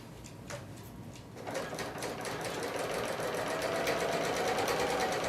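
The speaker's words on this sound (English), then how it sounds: "the blade is actually going to trim off all the selvage as I work as I sew this seam" A Bernina L890 serger sews a seam while its blade trims off the selvage, a steady mechanical whir that builds from a quieter start into a continuous rapid hum.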